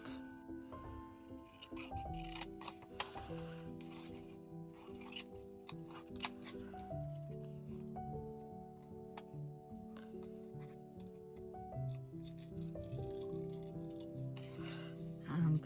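Scissors snip repeatedly while a CD pocket is cut out for a craft project, a steady run of close, quiet cuts and small clicks over a low background.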